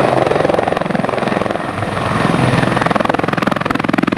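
A red-and-white toy fire rescue helicopter whirs with its propeller spinning, giving a steady, rapid, pulsing drone that stays loud and close for the whole stretch with no talking over it.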